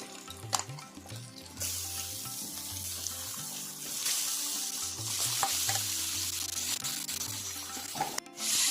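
Chicken pieces fry in spiced oil and are stirred in a pan for a chicken pulao. A loud, close sizzle swells as the meat goes in, with scraping stir strokes over a low repeating hum.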